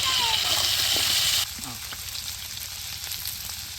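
Potatoes drop into hot oil for aloo dum and fry with a loud, dense sizzle that eases to a steadier, quieter crackle partway through.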